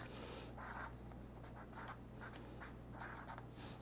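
Marker or chalk writing on a board during a fifth-grade math lesson on comparing decimals, with a steady scratchy stroking in short bursts over a constant low hum and no talk.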